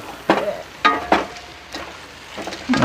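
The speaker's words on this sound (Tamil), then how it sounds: "எல்லாம் சேர்கிற அளவுக்கு பிரட்டி விடணும்" Chicken pieces coated in masala are stirred in a frying pan for biryani, giving several distinct scraping strokes of a spoon over a soft sizzle, close and fairly loud.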